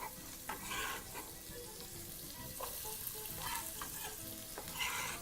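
White onions fry in cooking oil in a pan over medium heat, giving a soft, steady sizzle with a few light scraping stirs across the short stretch.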